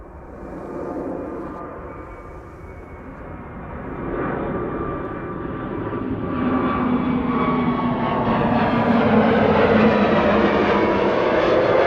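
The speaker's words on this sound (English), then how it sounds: "Iberia Express already spooling up. A321neo going to Madrid." Jet engines of an Iberia Express Airbus A321neo spool up at Amsterdam Schiphol Airport, a broad loud roar that swells steadily over about twelve seconds, heard alone without talk.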